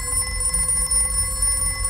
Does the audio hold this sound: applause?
no